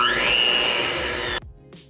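Electric mixer beating pistachio cake batter, a steady close motor whine with a rising pitch that runs for over a second, then cuts off abruptly, leaving a faint clink.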